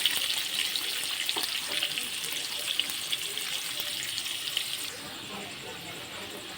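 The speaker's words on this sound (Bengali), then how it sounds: "আলুটা খুব ভালো করে ভেজে নেব।" Potato pieces fry in a pan for a steamed chicken dish, giving a steady, bright sizzle that hisses on throughout without pause and eases slightly toward the end.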